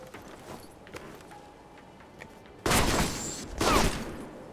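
Two loud bursts of rapid gunfire in the Alpha Protocol shooter game, each lasting under a second, break out after a quiet stretch of faint ambient rumble and small clicks.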